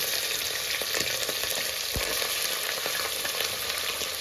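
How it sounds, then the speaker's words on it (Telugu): Mutton liver frying in hot oil, a dense, even crackling sizzle that holds steady throughout with a few faint stirring taps, heard up close. "ముందుగా కడిగి పెట్టుకున్న మటన్ లివర్ ఆయిల్లో వేసేసుకొని ఫ్రై చేసుకున్నాం"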